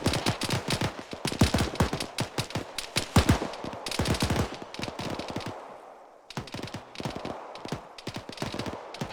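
Dense automatic gunfire in a military video game during a platoon training session, rapid overlapping bursts of rifle and machine-gun fire, loud and close, with a brief lull before the shooting resumes.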